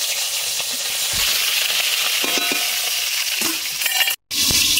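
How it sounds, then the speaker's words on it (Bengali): Two fish heads fry in hot mustard oil with a strong, steady sizzle and sputter, close up, with a few soft taps and a brief break near the end. "এবার আমি প্রথমে মুড়োটা ভেজে নেব, 2খানা মুড়ো দেবো।"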